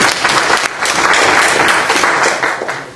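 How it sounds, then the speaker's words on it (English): A room of attendees at a Liberal party event on immigration gives a hearty round of applause, dense clapping swelling and holding before tapering off. "Let's give her a big round of applause."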